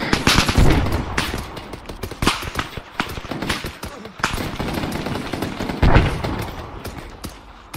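Close, rapid machine gun fire in a tactical war video game, sharp cracks in uneven bursts with heavier booms mixed in, dense and loud throughout.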